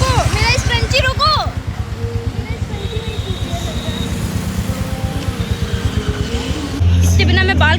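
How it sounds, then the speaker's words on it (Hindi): A car driven fast on the road gives a steady, loud engine drone with rising and falling pitch and some tire noise, while people talk over it at the start and end. "ये बहुत तेज गाड़ी चलाता है"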